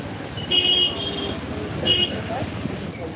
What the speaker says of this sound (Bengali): আমি এখন বাইকে আছি সেই কারণে এরকম আসছে